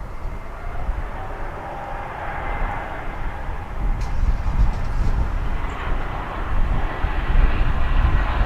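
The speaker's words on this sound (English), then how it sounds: "And now we have a Delta jet." A Delta jet airliner passes at DFW Airport, its broad engine roar steady and loud throughout, building slightly toward the end with no talk over it.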